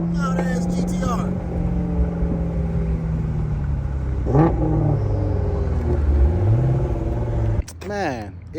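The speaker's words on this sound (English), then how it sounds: "Turn that loud thing down. God damn it. Loud ass GTR." A Nissan GT-R engine revs loudly nearby at a car meet, its pitch rising and falling in bursts, with a sharp final blip at the end.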